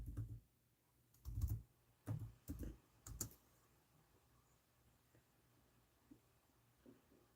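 Faint computer keyboard typing in a few quick bursts of clicks, followed by quieter stretches with light room noise.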